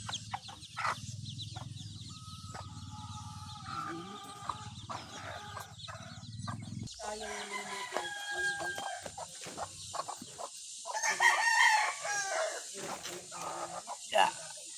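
Farmyard chickens clucking and calling near a ripe jackfruit tree, intermittent close clucks and short squawks over quiet background, with a rooster-like call and some rustling later.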